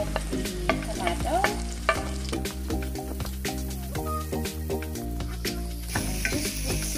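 Onion and tomato sautéing and being stirred in a hot pan while cooking squid adobo, with a steady loud sizzle broken by repeated scraping stirs, alone with no voices.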